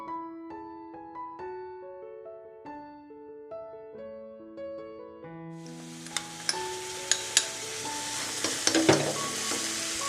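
Soft music plays alone at first, then mustard seeds fry in hot coconut oil for a chilli chutney tempering, producing a sudden rising sizzle with sharp, irregular pops and crackles layered over the music.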